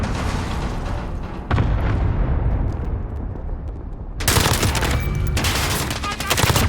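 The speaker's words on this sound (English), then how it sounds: "Enemy cluster strike incoming." Cluster strike explosions in the video game Modern Warfare: dense, loud rolling blasts and crackling fire that fill the whole stretch, with a fresh wave of detonations crashing in partway through.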